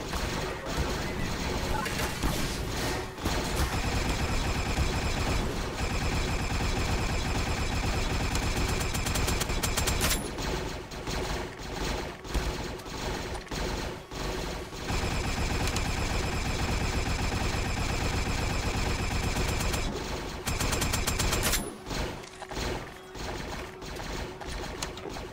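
Gunfire in Garry's Mod during a Star Wars roleplay hangar battle, dense and loud, with bursts of rapid shots and crashes running almost continuously, broken by brief pauses near ten and twenty seconds.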